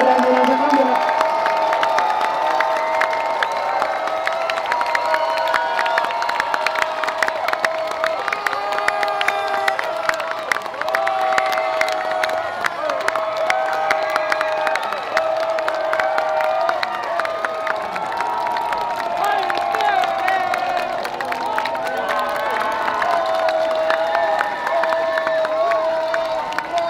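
A large crowd at a Thai Red Shirt political rally claps, cheers and whoops continuously, loud and dense, with shouting voices and a sustained tone running through the roar.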